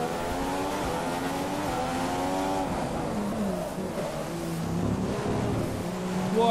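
Williams F1 race car engine in the F1 2015 video game screams steadily at high revs, pitch sweeping up and down through gear changes, loud and close throughout.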